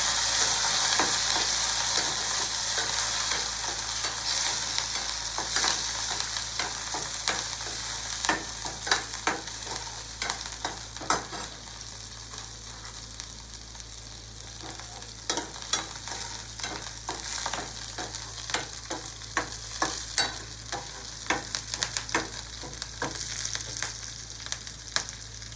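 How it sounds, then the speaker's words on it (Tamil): Onion, green chili, chana dal, curry leaves and coriander sauté in hot oil for a Tamil beetroot and carrot poriyal, a steady loud sizzle running throughout with frequent sharp scrapes and clicks of a spatula stirring the pan. "வெங்காயம், பச்சை மிளகாய், கடலைப்பருப்பு, கருவேப்பிலை, கொத்தமல்லி, இதை நல்லா நான் வதங்க."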